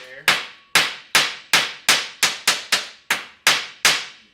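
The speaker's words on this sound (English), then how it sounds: "You take that high crown hammer and flatten it back out." A high crown hammer strikes heat-distorted metal after torch welding, eleven sharp, loud, close blows landing in a fairly steady rhythm with short ringing decays.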